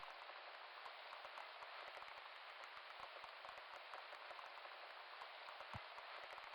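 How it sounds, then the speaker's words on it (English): Steady, loud rain from the video game Copperport Casefiles, a dense unbroken hiss with scattered drop ticks running for the whole stretch, alone and without talk. "I'm going to have to do something about the volume of that rain"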